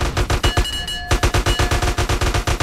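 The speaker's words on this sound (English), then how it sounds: "Why are you fucking shooting, guys?" Rapid bursts of gunfire in the San Andreas Multiplayer video game, loud, close and rhythmic, with a brief pause in the shooting midway and no talking.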